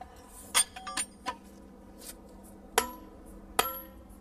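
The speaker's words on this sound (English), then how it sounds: "it's called delving, and using plug and feathers" A hammer strikes steel plug and feathers set in drilled holes in stone to split it, giving several sharp metallic clinks at irregular intervals against a quiet outdoor background.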